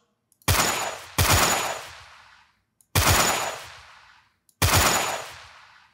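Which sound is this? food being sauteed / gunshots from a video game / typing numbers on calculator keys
gunshots from a video game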